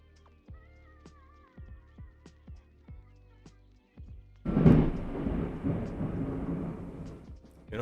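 Thunder crashes loudly in a video game thunderstorm, a deep rumbling roll that swells midway and lingers with rain-like noise, preceded by quieter game sounds and short tones.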